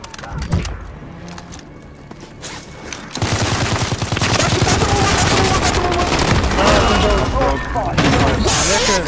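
Call of Duty Warzone gunfire: after a quieter start with scattered shots, dense rapid automatic fire and booming blasts hit loud and close around the three-second mark and keep going steadily, with players talking over it.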